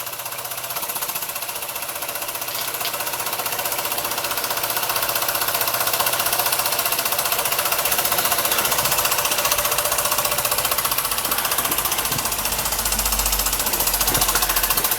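A small Mamod SP2 model steam engine chugs steadily with a rapid, even mechanical clatter, close by and continuous, growing slightly louder toward the end.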